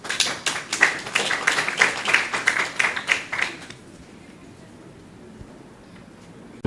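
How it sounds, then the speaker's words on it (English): An audience at a Consumer Rights Day event in a Hilton Garden Inn hall in Mbabane claps in steady, fairly close applause for about four seconds, then it stops abruptly and the room falls quiet. "Can you please clap hands again"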